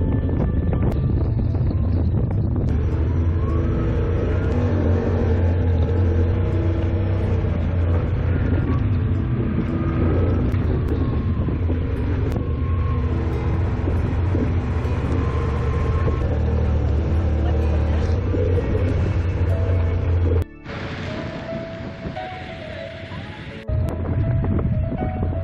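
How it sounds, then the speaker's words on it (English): Strong wind along a rugged Newfoundland beach, a loud constant rumbling roar blasting the microphone with a low engine-like drone, briefly dropping away near the end before returning. "It is so windy along here."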